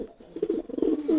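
A homing pigeon coos close by in soft, low, throaty bursts that swell into a rolling warble, with no talking over it.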